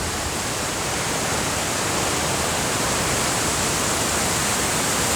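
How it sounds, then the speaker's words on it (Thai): Strong-flowing waterfall on the Dalälven river in Sweden, a constant loud broadband rush of falling water, steady and unbroken with no voices over it. "น้ำตกค่อนข้างที่จะ ไหลแรงมากๆเลยนะคะ"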